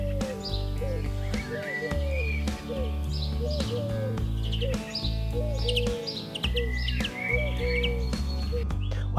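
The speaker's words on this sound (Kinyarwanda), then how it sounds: "hari inyoni iri kuguhamagara." Pigeons cooing in repeated soft, low phrases, mixed with brief higher chirps from other birds, close and clear over a low steady hum.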